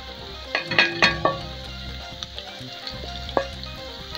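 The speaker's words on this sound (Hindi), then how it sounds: "इसको डालने के बाद आपने इसको 10 सेकंड तक भूनना है" Spices and paste fry in hot oil for yakhni pulao, a soft sizzle with several sharp metallic clinks and scrapes of a spoon against the pot, close and without speech.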